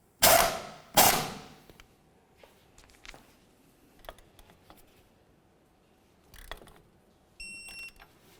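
A torque wrench tightens the tie rod nut on a 2004-2006 Scion xB front wheel hub. Two sharp, loud mechanical bursts come first, then scattered faint clicks and a few short high tones.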